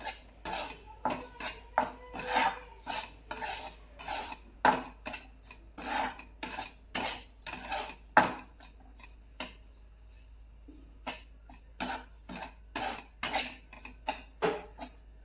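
Semolina roasting in ghee in a pan, stirred with a spoon in steady scraping strokes that rise and fall in a regular rhythm, close and clear, with a short pause partway through.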